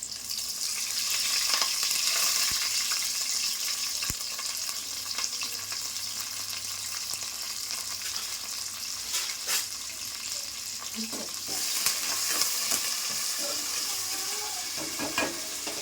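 Steady sizzling of spices frying in hot oil, with occasional stirring clatter and scraping throughout, close and fairly loud.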